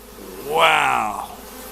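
Honey bees buzz during a beehive inspection, one loud close drone swelling in as a bee passes near, then fading away, over a quieter hum of the colony.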